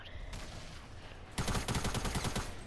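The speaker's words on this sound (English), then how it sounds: "Why is he using a tactical submachine gun?" Rapid burst of tactical submachine gun fire in Fortnite, loud and close, kicking in partway through after quieter ambient game noise.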